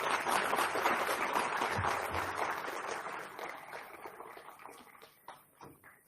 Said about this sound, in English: I would like all of you to give one round of applause for all of them.